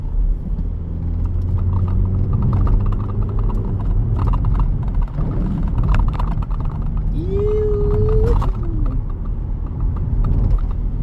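Renault Talisman driving through a series of corners on a wet road, a steady interior rumble of engine and tyre noise with a brief rising whine partway through.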